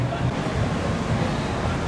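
Ocean surf at night on a crowded shore, a steady broadband wash of breaking waves with wind across the microphone, loud and continuous throughout.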